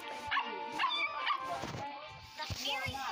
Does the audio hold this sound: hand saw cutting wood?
no